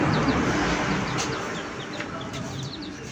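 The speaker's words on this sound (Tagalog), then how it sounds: "Yung manok pala na uhaw din" Chickens cluck softly and repeatedly near some baby chicks, short bursts rising and falling over a quiet outdoor background.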